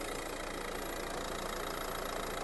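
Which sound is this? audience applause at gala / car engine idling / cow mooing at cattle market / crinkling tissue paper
car engine idling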